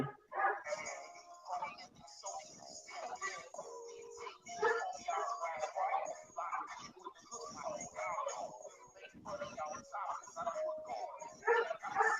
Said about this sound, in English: do you have a dog in your house?